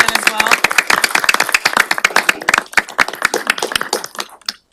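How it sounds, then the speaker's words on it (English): A room of people at a county commissioners' meeting gives a round of applause for budget staff: dense, close hand clapping with sharp irregular claps that thin out and stop toward the end. "So I will start clapping, and if you'd like to clap, you can as well."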